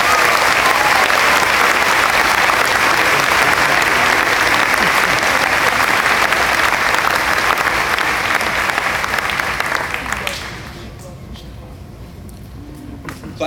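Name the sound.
round of applause at high school graduation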